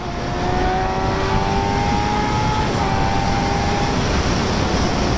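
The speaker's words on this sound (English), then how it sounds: "I wasn't expecting traffic." Road traffic passing a street bike rider, a steady loud roar of car engines and tyre noise with faint rising whine tones, constant throughout and close by.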